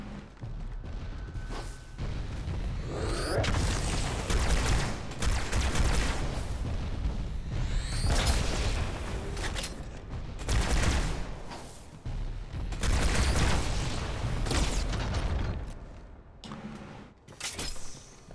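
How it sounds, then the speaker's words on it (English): Grenade blasts and gunfire in the Halo 2 Master Chief Collection on Legendary, a dense, loud run of booms and shots with repeated heavy bursts over about eighteen seconds, close and continuous with brief lulls. "Grenades!"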